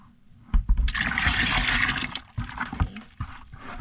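Eight liters of unheated water pour slowly into a fabric conditioner mixture as it is stirred, producing a near, rushing splash that begins abruptly, runs steadily and then tapers into intermittent sloshes.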